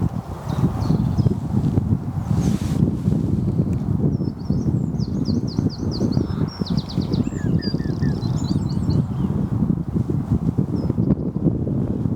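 Wind blowing outdoors beside a lake roars steadily as loud, gusty microphone buffeting throughout, with faint bird chirps and trills coming through in the middle.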